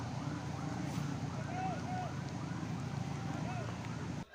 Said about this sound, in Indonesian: ini iring-iringan ambulan yang membawa para korban dibawa ke Sumedang